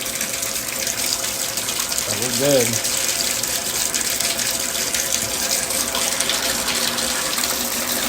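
Water rushes steadily through newly installed bathtub plumbing during a leak test, a constant broadband gush with a brief voice over it partway through.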